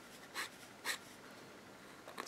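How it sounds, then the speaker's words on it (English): A very fine, thin metal nib pen scratches across paper while inking, giving faint, soft scraping strokes in a few short bursts over a quiet background. "it scratches the paper a bit more because it's so fine"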